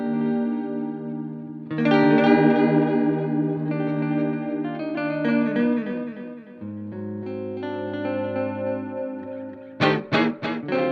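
Red Panda Raster 2 effects pedal running with its depth turned up, processing a played instrument into shimmering, chorus-like delayed tones with echoing repeats, sustained notes giving way to a few sharp stuttering bursts at the end; no talking.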